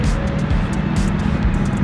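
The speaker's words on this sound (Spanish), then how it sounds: "Así se mira el tráfico" Road traffic in Austin, Texas, rumbles as a loud, continuous low roar of passing cars in the afternoon, with no talk over it.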